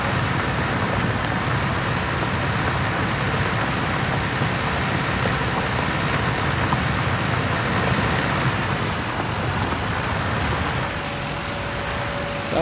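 Steady rain in the Farm Simulator video game, a dense, even hiss that runs unbroken for more than twelve seconds with no talk over it.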